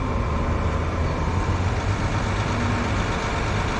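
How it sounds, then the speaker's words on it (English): A double-decker bus engine rumbles steadily on a street in downtown Ottawa, a constant low idling drone holding close and loud for the whole stretch with no break. "it was just this double-decker bus what's making that noise"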